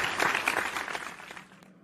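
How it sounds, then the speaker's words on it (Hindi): Loud applause greets a politician guest on a comedic Hindi cartoon interview show: a dense, crackling wash of clapping that holds steady, then thins and fades out near the end, with no voices over it. "ज़ोरदार तालियां नेताजी के लिए"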